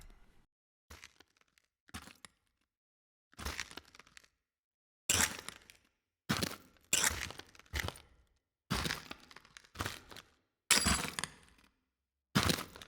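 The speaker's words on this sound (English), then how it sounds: "boots on broken glass" Boots tread over broken glass in isolated bursts, each step a crunchy crackle and shatter separated by silence, the steps coming at an uneven pace, close and fairly loud with no talking.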